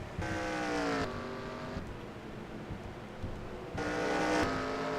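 Race cars roaring around the Charlotte Roval road course in a racing video game, a continuous engine drone with high whining passes swelling at the start and again near the end.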